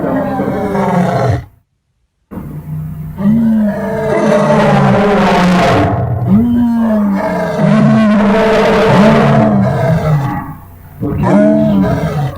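A lion roars loudly again and again in deep, drawn-out groaning bursts with short pauses between them, and a voice speaks briefly over it.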